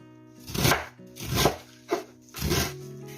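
A knife chops cabbage for borscht in four separate bursts of crisp cutting, each a short scraping crunch against a board, with brief pauses between them and steady background hum.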